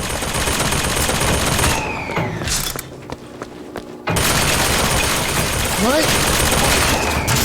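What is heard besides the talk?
turret gunfire in video game BioShock Infinite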